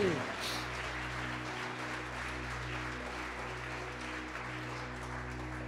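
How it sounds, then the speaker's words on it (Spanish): A church congregation applauds during a sermon, the clapping fairly soft and spread over a steady low hum from the room's sound system. "Dele un fuerte aplauso al Señor"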